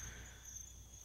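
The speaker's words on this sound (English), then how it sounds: "just still and silent in the forest with crickets chirping in the background" Steady cricket chirping in a still forest at night in the game Knock Knock, a continuous high trill held at a soft, even level with no other sounds.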